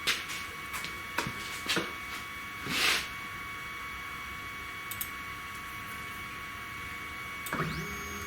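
A 3018 CNC router with a 300-watt spindle engraves, giving a quiet, steady high whine broken by scattered ticks and short mechanical bursts.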